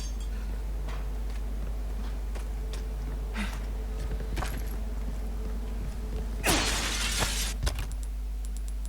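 Crystals shatter in Resident Evil 4 as one loud burst of breaking glass in the middle, amid scattered clicks and ticks from the game over a constant low hum.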